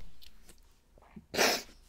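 A single sharp, close sneeze bursts out loud and alone in a quiet indoor room, preceded by faint breathing and small rustles.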